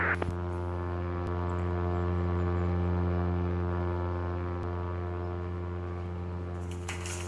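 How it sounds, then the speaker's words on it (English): A Catalina flying boat takes off in a flight simulator, its propeller engines holding a steady, loud droning hum with a few faint clicks over it. "Catalina takeoff."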